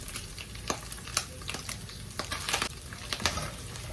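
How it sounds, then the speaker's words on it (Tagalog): Ground meat sautéing and sizzling in a pan while being stirred, with a steady frying hiss broken by sharp scraping stir strokes, close and alone with no talk. "Halu-haluin lang po natin para pagka po lagay natin yung bawang."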